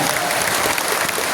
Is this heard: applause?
yes